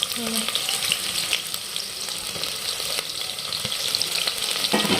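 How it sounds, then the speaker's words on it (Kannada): Chopped onions hiss loudly and steadily in hot oil, close by. The scrape and clatter of stirring breaks in now and then. "ಅದ್ರೊಳಗೆ ಉಳ್ಳಾಗಡ್ಡಿ ಹಾಕೊಂಡ್ಬಿಟ್ಟೆ ನೋಡಿ"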